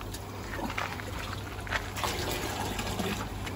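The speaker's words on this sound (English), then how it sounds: "Okay, so time for a little bit more fish tank water." Aquarium water from a fish tank in an aquaponics setup pours into a container, giving a steady trickling, splashing flow that runs continuously at moderate volume throughout, with no talking.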